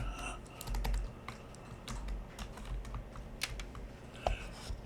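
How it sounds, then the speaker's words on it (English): Rapid clicking of a computer keyboard as a short message is typed into a chat input, the keystrokes close and irregular over a low room hum. "I can type in hello"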